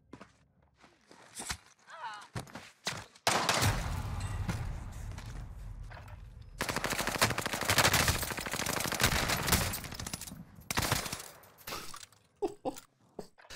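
Bursts of rapid gunfire from a multiplayer shooter, aimed at a barrel, come loud and close in two long volleys with short pops between, while a person talks over the gaps.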